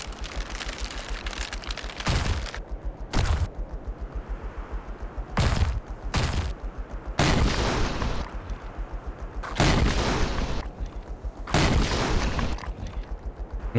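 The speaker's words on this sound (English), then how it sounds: "That's a poison bullet." Repeated heavy gunshots from poison bullets in the game Ark, loud bursts recurring every second or two over a steady dense background roar.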